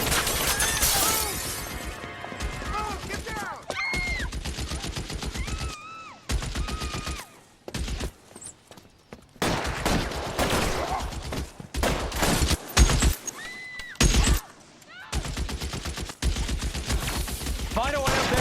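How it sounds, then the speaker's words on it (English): Machine gun fire from a sniper in L.A. Noire: loud, sharp bursts of rapid automatic shots arrive in clusters separated by short silences, with shattering impacts and game voices talking between volleys. "Shooter has a machine gun."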